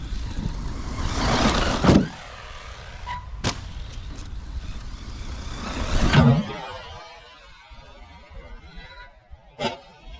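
An Arrma Mojave 1/8-scale RC car races toward a high jump ramp at an amateur circuit, its electric motor whining in loud surges with two strong bursts, then fading, with a sharp clack near the end.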